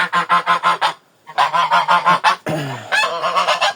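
Geese on a farm honk close and loud in rapid rhythmic bursts, a steady string of calls broken by a short pause and a harsher hiss-like call before the honking resumes.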